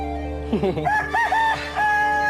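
A rooster crows at a cockfight, one drawn-out cock-a-doodle-doo rising and wavering for about a second and a half over a low steady background hum.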